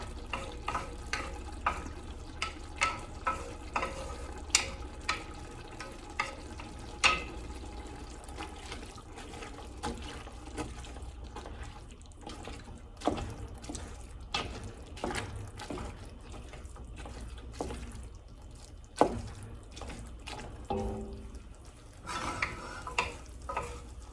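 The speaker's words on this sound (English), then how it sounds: "we're infusing this oil with the garlic" Garlic sizzles as it fries in oil for a spaghetti sauce, a continuous soft crackle with frequent stirring scrapes and clinks of a utensil against the pan, close and fairly quiet with no talking.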